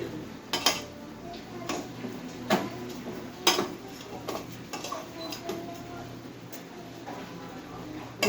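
Rice for basanti pulao is fried and stirred in a pan, giving sharp, scattered clinks and scrapes of a utensil against metal with quieter rustling between them.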